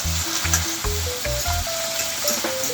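Tomato sizzling as it lands in a hot frying pan with sweet pepper for ackee and saltfish, a loud steady crackling fry with a few stirring knocks, no talking.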